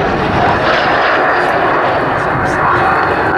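Gloster Meteor NF11 jet aircraft performing a gentle flying display at an airshow, a steady loud roar of engine noise filling the whole stretch, with a commentator's voice faintly present beneath it.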